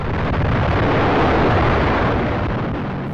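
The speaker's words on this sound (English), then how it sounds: "explosions." Rumbling roar of a French nuclear test explosion in the Algerian Sahara desert, a loud sustained broadband blast that holds steady for about three seconds and fades slightly at the end.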